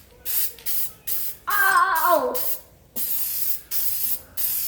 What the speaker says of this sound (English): I'm going to go ahead and just hit this whole axle with this Seymour Paint, the first coat